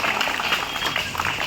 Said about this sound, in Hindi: अगर अच्छा लगा तो थोड़ी तालियां पीट लीजिए भाई सब लोग।